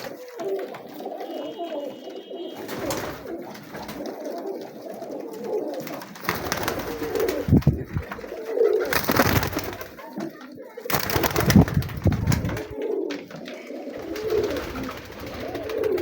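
Teddy pigeons coo steadily in soft, repeated throaty rolls, several birds close together, with occasional bursts of flapping and rustling noise.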